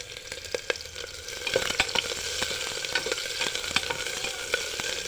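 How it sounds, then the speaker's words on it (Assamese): Chopped onion sizzles and fries in a pan while being stirred, a steady crackling hiss with scraping stir strokes, close and alone without talk. "তাৰ পাছত মই দিম লগত কটা পিঁয়াজ।"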